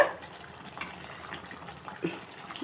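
Water pours faintly into a cooking pot while gongura meal maker curry is being made, a soft, uneven splashing trickle at low volume.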